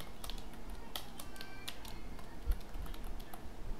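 Pseudocode being typed on a computer keyboard: steady, quick keystrokes close up with a couple of louder taps, no voice.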